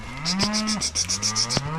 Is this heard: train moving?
no